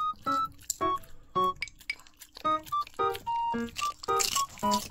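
A dog crunches food in a home, a series of sharp crisp bites and chewing clicks in quick irregular bursts, close and clear, with no talk.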